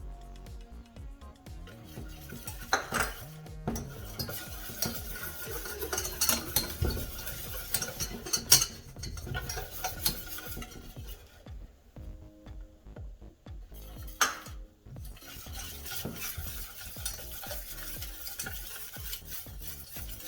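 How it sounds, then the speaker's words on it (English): A béchamel sauce of flour and milk being stirred continuously in a pan, with soft intermittent scraping and swishing, occasional louder clinks of the utensil against the pan, and a faint sizzle underneath. "So now we will add milk slowly and steadily, and we have to mix it like continuously."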